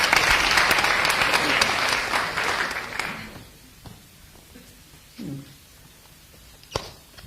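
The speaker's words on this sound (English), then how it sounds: "Give a round of applause just to go back to your seat." Audience clapping for a magic performance, loud and dense for about three seconds, then fading to scattered claps and room noise.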